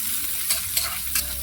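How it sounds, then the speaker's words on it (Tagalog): Garlic, onion and tomato being sautéed in a pan for a mung bean dish, a steady sizzle with three sharp stirring scrapes, close and without speech. "Manggigisa na tayo. Lagay tayo ng bawang, sibuyas, kamatis."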